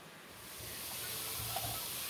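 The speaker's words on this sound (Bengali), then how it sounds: "আলুটা কিছুক্ষণ ভেজে নেব।" Salted potatoes frying in oil in a pan: a steady, soft sizzle that swells slightly over a couple of seconds, close by with no talking.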